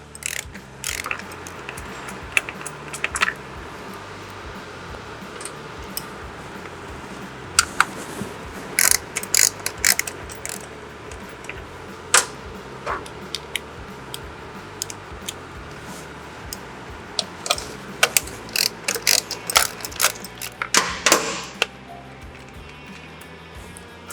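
A ratchet wrench loosening 8mm skid plate screws on a Yamaha TT250 motorcycle frame, with bursts of rapid ratcheting clicks and metallic ticks scattered irregularly over a quiet background.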